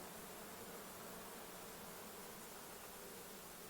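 Honey bees buzz steadily at an opened C.C. Miller hive during an inspection, a dense, continuous drone of many insects, close and fairly faint, with no talk.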